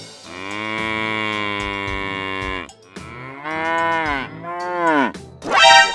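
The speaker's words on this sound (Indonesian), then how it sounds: "Sampai sapi ini teriak ya." Cows in the GTA 5 video game moo in long, loud, drawn-out calls, several in succession with short pauses between them, up close and without talk.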